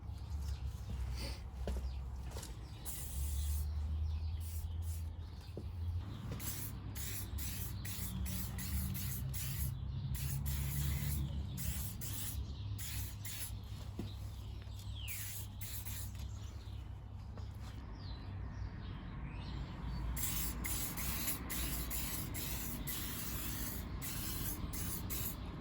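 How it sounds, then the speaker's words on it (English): GT85 spray lubricant hissing in repeated bursts onto a Honda XL125RC motorcycle, close up and steady, with scattered clicks and handling noises between sprays. "I like to just give it a good spray with something like WD-40, or this is GT85"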